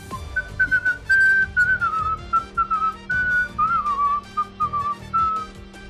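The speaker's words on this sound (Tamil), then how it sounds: "விசில் செய்தபடி அந்த பேங்கை விட்டு வெளியே சென்றான்." A man whistles a lively tune as he walks out of a bank, a close, clear melodic whistle with short phrases and brief pauses, heard alone.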